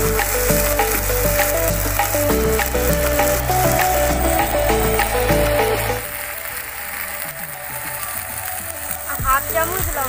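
Ginger, garlic and onion paste frying in hot oil with dried red chillies and five-spice tempering, a steady close sizzle that drops in loudness partway through, with background music playing over it.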